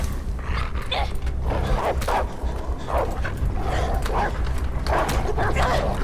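Dogs bark and yip repeatedly in the video game Beyond: Two Souls, several sharp loud bursts over a constant low rumble and game noise.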